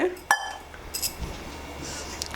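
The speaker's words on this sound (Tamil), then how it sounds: "ஸ்டவ்வில் வந்து குக்கர் வச்சாச்சு" A metal pressure cooker set down on a stove, giving one sharp clank near the start followed by a few lighter clinks and faint kitchen handling noise, with no talk.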